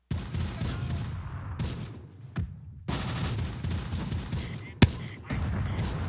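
Gunfire and an explosion crackle through a World War II tactical battle in Close Combat: The Bloody First, with repeated bursts of shots, a brief gap, then a sharp loud bang and more firing, all fairly close.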